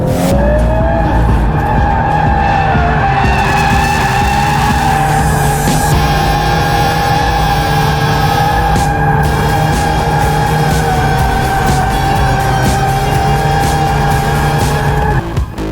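A VW Golf R Mk8 with 4Motion four-wheel drive in drift mode, tyres squealing continuously and loudly under a sustained engine drone, the screech wavering in pitch as the car slides.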